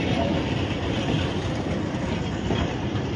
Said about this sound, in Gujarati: જો ટ્રેન આવી રહી છે